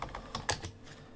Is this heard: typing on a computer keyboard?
yes